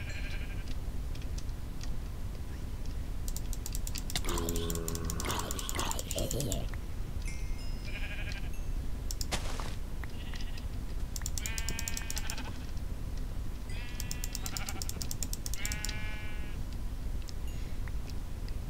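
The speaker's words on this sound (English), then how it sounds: "I'm gonna go over and slay these sheep" Sheep bleating in the video game Minecraft, several separate bleats spread across the stretch over steady background noise, with keyboard-like clicks and a voice in places.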